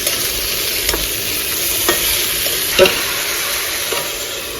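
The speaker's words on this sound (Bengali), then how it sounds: "আর একটু তেল নাড়ানাড়ি করে এটাকে আবার ঢেকে দিতে হবে।" Food stirred in hot oil in a pan with turmeric and spices, a continuous close sizzle broken by several periodic scraping strokes, no voices.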